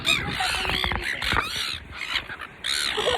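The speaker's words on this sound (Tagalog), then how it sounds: "Ang daming ibon, no?" Several birds calling at Waihi Beach while being fed, a flurry of harsh, overlapping squawks and caws up close, with brief gaps between bursts.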